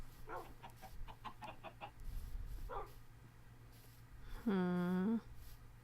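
In Minecraft, a chicken gives a few short clucks, then a quick burst of faint clucking, and later a single loud drawn-out squawk, all over a low background hum.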